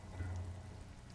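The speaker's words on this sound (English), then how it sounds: "Rain falls down on the world." Rain in the game Disco Elysium falling over a city by the coast, a faint, steady, low patter with no voices.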